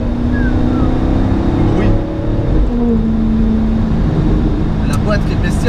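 An Alfa Romeo 8C Competizione engine holds a steady, full drone from inside the cabin while the car drives on, with a brief spoken word from an occupant over it.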